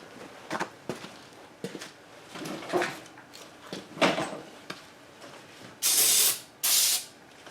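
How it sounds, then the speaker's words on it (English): Two short, loud bursts of carburetor cleaner spray hissing into a Husqvarna chainsaw engine near the end, preceded by faint clicks and handling noises. "let's spray a little carb spray in there"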